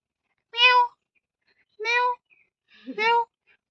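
Three clear cat meows spaced about a second apart, fairly close and distinct, with quiet pauses between them.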